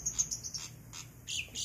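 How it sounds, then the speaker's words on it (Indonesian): A caged Asian pied starling gives short, bright chirps and whistles in a few quick bursts, fairly close and alone. "Nih, jalak surennya ini."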